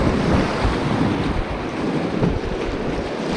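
Buckhannon River running about a foot higher than usual, a steady broadband rush of fast water and surf-like churning with wind buffeting a nearby microphone, continuous and loud with no voices.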